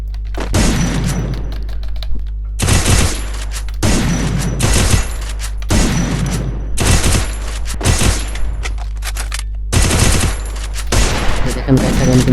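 Rapid bursts of automatic gunfire from the video game Free Fire, loud and close, firing in repeated clusters separated by short pauses, with no talking over it.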